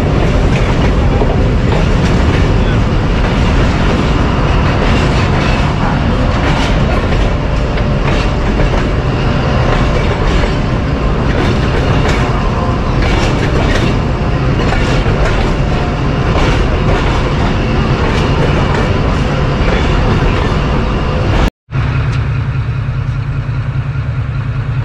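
Thal Express passenger train rolling into Kundian Junction platform, a loud continuous roar of wheels and carriages with rhythmic clickety-clack, close up, ending with a brief cut to a quieter idling hum.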